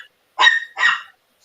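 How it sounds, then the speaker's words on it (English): Dogs bark in the background at night, two quick close barks with a short gap between them and no talk over them. "I'm talking about what I hear barking in the background."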